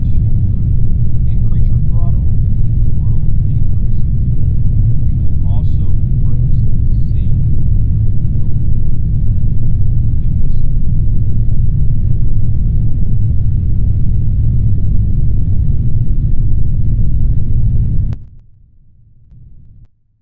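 Steady, heavy low rumble of a rocket engine at throttle in the game Kerbal Space Program, loud and unbroken for about eighteen seconds with faint clicks over it, then cutting off abruptly to a quiet hum.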